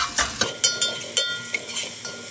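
A spoon scrapes and clinks against a pan while green peppers, spices, salt and lemon are stirred together, a dozen quick metallic taps in an irregular rhythm, close and clear.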